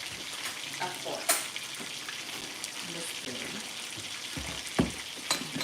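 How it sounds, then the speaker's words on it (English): Food sautéing in a pan alongside pasta cooking, a soft continuous sizzle with a few sharper clinks and stirring knocks, fairly quiet and without talk. "Keeping an eye on all my things that are sauteing"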